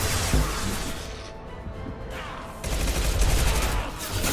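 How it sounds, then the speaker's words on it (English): Gunfire in the Mass Effect game, dense bursts of shots and crashes, loud at first, easing briefly, then swelling again. "Taking fire."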